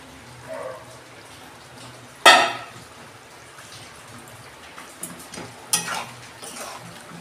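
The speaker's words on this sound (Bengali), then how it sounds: "আমি এবার আলুগুলো দিয়ে দিচ্ছি।" Potatoes being tipped into a pan of chicken curry cause a loud clatter and splash, followed by softer scraping and stirring clinks of a utensil against the pan under a low simmer.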